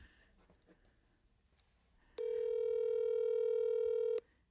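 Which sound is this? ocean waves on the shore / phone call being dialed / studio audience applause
phone call being dialed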